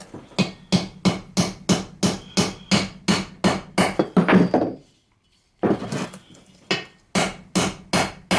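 Sharp, steady hammer taps drive a part into the muffler of a Husqvarna 572 XP chainsaw, about twenty evenly spaced knocks with a brief pause partway before the tapping resumes, close and loud with no talking.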